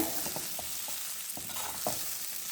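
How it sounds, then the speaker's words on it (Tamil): Crumbled idli being stirred into upma in a frying pan gives a constant close sizzle and hiss, punctuated by soft rhythmic scraping strokes of a spoon, no talk. "இப்போ இட்லி உப்புமா போடுறேங்க, பொடிச்சு வச்சுருக்கிறது. போட்டு இதில் ஒரு நல்லா கலக்கி விட்டுலாங்க."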